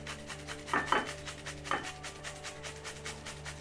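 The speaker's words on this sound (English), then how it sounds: "Okay, so you're going to need half a cucumber, like that, and just grate it up." Half a cucumber is grated by hand, giving a soft, rhythmic rasping scrape that repeats steadily at close range, with a couple of louder strokes early on.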